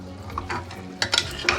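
Mutton curry being stirred in a pot after salt is added, a few short scraping strokes with soft clinks, close and fairly quiet, with no voices.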